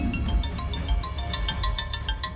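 A phone rings with an incoming call from an unknown number, a repeating electronic ringtone pulsing steadily and fairly loud over a low background hum, with no talking.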